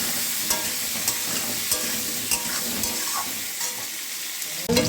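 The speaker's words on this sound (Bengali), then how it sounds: "আলু ভেজে একটু হলুদ দিয়ে দিলাম, নুন দিয়ে দিলাম, দিয়ে আলুটা ভেজে নেব" Potatoes frying in oil in a pan with turmeric and salt, a continuous soft sizzle with light scraping stirs and a few clinks, ending in a louder scrape.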